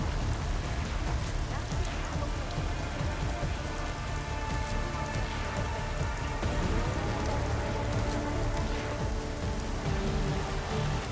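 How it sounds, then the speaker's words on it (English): Steady, dense rain in Deus Ex: Mankind Divided pours continuously across the whole stretch, a loud, even hiss of drops on surfaces with no voices over it. "It's probably all this rain."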